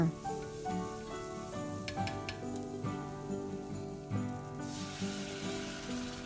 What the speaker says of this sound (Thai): คนทุกอย่างให้เข้ากันนะคะ คือเราจะใส่เครื่องปรุงไปคนไปค่ะ